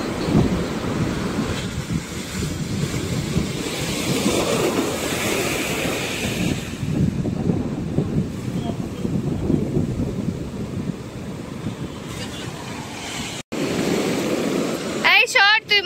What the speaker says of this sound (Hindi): समंदर में जो साउंड आता रहता है